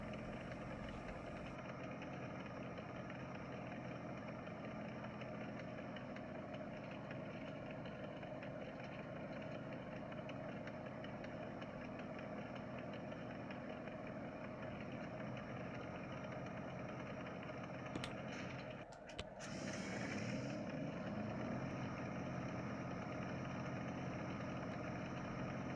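Black Prince tank engine in a video game, droning heavily and steadily as the tank climbs a hill at Middleburg, with a brief dip and rise in the engine note partway through and no voices.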